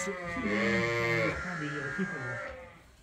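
Sheep bleating close by in a freshly bedded pen, a drawn-out wavering call followed by a shorter second bleat that trails off, with a voice talking faintly underneath.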